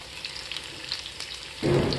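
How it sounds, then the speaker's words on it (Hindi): Seven or eight finely chopped garlic cloves drop into hot oil, a quiet background hiss that swells into a sudden louder sizzle near the end of the short moment. "अब इसमें ये 7-8 कली लहसुन बारीक काट के रखे थे उसको डाल देंगे।"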